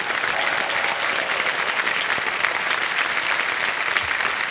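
The studio audience of Kaun Banega Crorepati Season 14 breaks into loud, sustained applause, a thick, unbroken roar of many hands clapping for several seconds without any talking.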